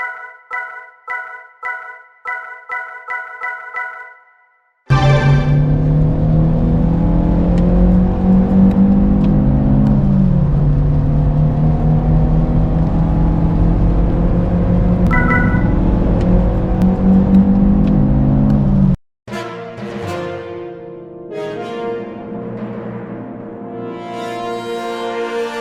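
A 2000 Renault Megane 1.6 16V RXT driven on the road in the rain, its engine a loud, steady drone close by, preceded by a short run of tonal beeps and broken by a brief cut before the engine sound returns.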